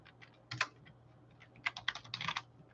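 Keys clatter on a computer keyboard in short bursts, a few quick taps and then a faster run of keystrokes, close and fairly quiet with a low hum beneath.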